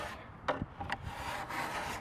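A hand file is pushed along a snowboard's steel edge at about 88 degrees. It makes faint rasping, rubbing strokes with a couple of brief sharper scrapes.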